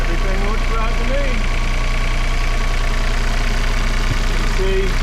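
A sailboat's inboard diesel engine runs steadily at high revs in the engine compartment, a loud continuous drone with a regular mechanical beat, while someone talks over it.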